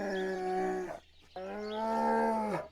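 A bear gives two drawn-out, deep tonal growls separated by a brief silence, each ending in a falling moan, fairly close and alone.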